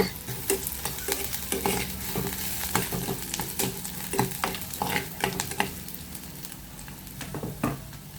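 Urad dal frying in a pan for a Sri Lankan ambarella curry, with a continuous hiss of sizzling and frequent sharp scraping strokes as it is stirred, close and without speech.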